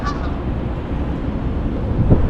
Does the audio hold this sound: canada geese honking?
yes